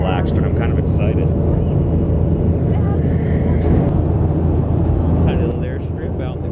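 Inside the cabin of a Delta Airlines MD-90 airliner climbing toward cruise, a loud steady roar of engines and airflow fills the space, with faint voices underneath.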